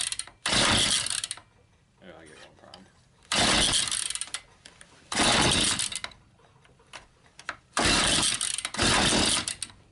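A Stihl FS94R string trimmer's small two-stroke engine is pull-started repeatedly outdoors, giving several loud rasping cranks and sputters in a rough rhythm with quieter gaps, as a person speaks between attempts.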